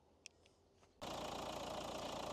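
A 2015 Nissan Qashqai 1.5 dCi diesel engine cranks and catches, then settles into a steady, loud idle that runs on unchanged after a few faint clicks.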